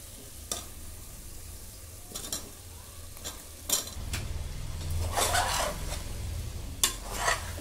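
Potato and soybean fry in oil with masala, a low steady sizzle broken by several sharp scrapes and clinks of a spoon stirring against the pan.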